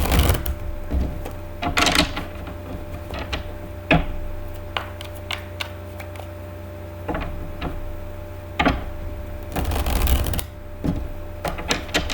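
Tarot cards are shuffled in scattered bursts of riffling and flicking, close by, with quiet pauses between, over a low steady hum.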